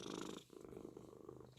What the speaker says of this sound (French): C'est mon chat chanteur aussi